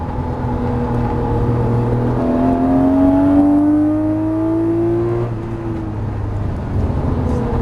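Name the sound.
Lamborghini Murciélago accelerating on race track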